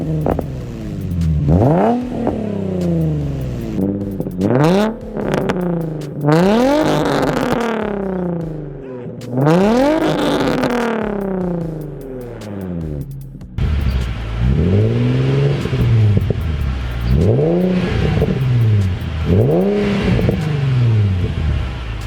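A lowered sports car with an aftermarket exhaust revs hard again and again, each rise and fall close and loud, with a throaty, raspy tone and no talking.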